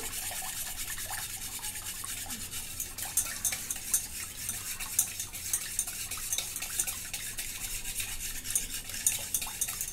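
A spoon stirs chocolate cake batter of milk, powdered sugar and oil in a bowl, giving quiet, repeated scraping and swishing strokes close by, with no talk.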